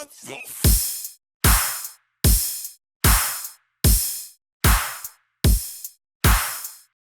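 Eight bright crash cymbal hits in a steady rhythm, each a sharp splash that is cut short as it quickly fades.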